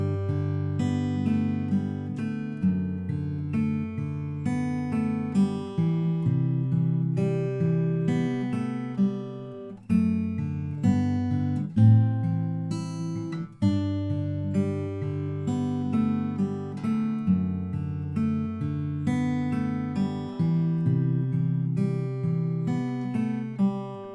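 Acoustic guitar picking the intro of a song, a steady, close and clear melodic line over ringing chords that repeats through the whole passage with no voice.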